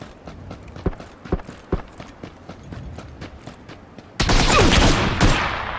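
Gunfire in the battle-royale game PUBG: a string of sharp single shots at uneven intervals, then a dense, loud burst of rapid fire near the end.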